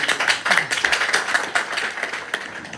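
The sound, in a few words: audience applause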